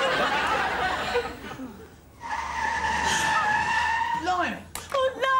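Car tyres screeching and skidding in a sustained, wavering squeal that repeats in two long bursts, loud and close, followed by a short stretch of people talking and laughing.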